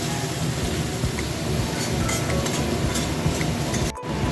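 Chopped tomato going into a pan of fried onion, sizzling steadily in a dense, close hiss for a few seconds with faint stirring scrapes, a short dip near the end.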